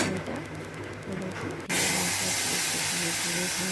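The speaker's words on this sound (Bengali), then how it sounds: "তো আমি এবার ফোড়নটা দিয়ে নিচ্ছি" Whole spices dropped into hot oil for a khichuri tempering, a loud broad sizzle bursting in partway through and holding steady, with faint kitchen hum before it.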